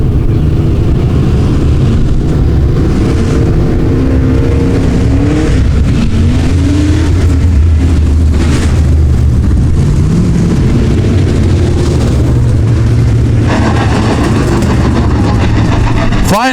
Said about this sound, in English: 8 laps the distance, heat race number 2 in your Midwest late models